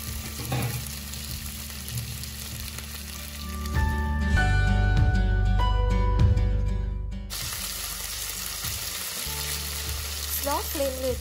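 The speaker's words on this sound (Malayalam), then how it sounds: "ഓയിൽ ചൂടായതിലേക്ക് നമ്മൾ ചെറിയ ചെറിയ പീസാക്കി മാഗ്നേറ്റ് ചെയ്ത് വെച്ച ചിക്കൻ പീസസ് നമുക്ക് ഫ്രൈ ചെയ്തെടുക്കാം." Small marinated chicken pieces dropped into hot oil, frying with a loud, steady sizzle that swells for a few seconds and then settles into a quieter crackle, close by, with no talking.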